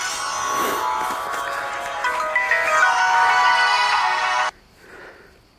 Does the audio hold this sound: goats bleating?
no